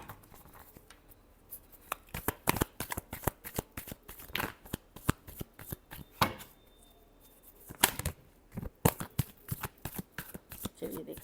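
Tarot cards being shuffled repeatedly, a steady run of crisp riffling bursts and flicks across the whole stretch, close and fairly loud, with no talk over them.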